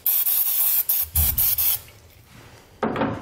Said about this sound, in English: grab some brake parts cleaner and just spray everything down